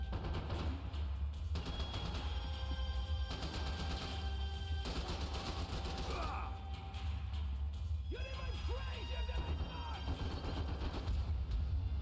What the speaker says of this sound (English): I'm shooting the tiles, it's not doing anything.